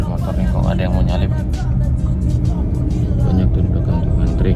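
Cars and motorbikes squeezing along a narrow road and trying to overtake, a steady close engine and road rumble with passing vehicles, while someone talks almost continuously over it.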